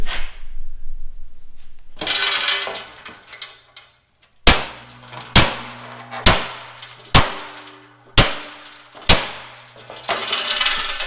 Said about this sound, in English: like flattening out this gas tank skid